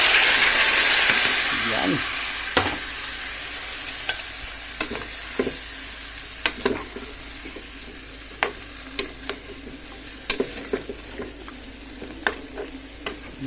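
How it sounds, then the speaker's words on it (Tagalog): Coconut milk goes into a pot of simmering squash and string beans, a soft hiss and bubbling fading in the first seconds, followed by scattered sharp clicks of a utensil against the pot while a voice speaks briefly. "Lagyan na natin itong gata."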